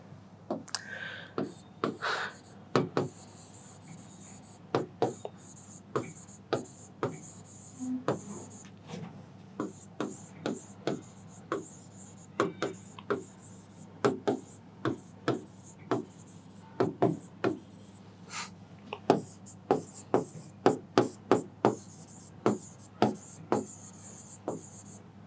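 Writing on a board during a coordinate geometry physics lecture: a long series of short, sharp taps and strokes, close but soft, with the lecturer's voice occasionally heard between them.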